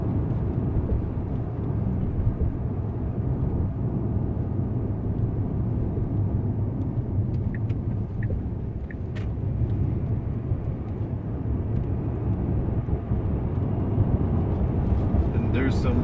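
Steady low roar of a Tesla P90D electric car speeding up on the road, a broad rushing drone like an airplane taking off, with wind and tire noise throughout.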